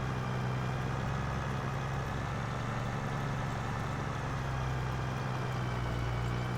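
Tractor engine idling in the Farming Simulator 25 video game, a steady low drone with a constant hum, alone and unchanging throughout.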